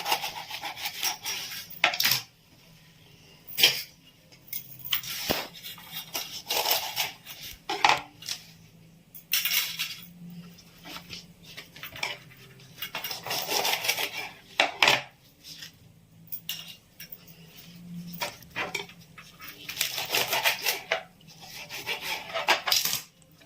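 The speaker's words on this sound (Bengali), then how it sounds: "এবার একটা ছুরি দিয়ে আমি এটা কেটে কেটে দুভাগ করব" A knife saws repeatedly through fish wrapped in taro leaves, halving the bundles with irregular scraping and rubbing strokes against a board, close and moderately loud, with short pauses between cuts.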